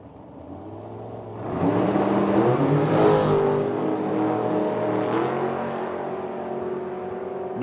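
A dragster launches and accelerates hard down a drag strip at a racetrack in Medicine Hat, Alberta, its engine roaring up loudly and sustaining a harsh, rising howl as it pulls away.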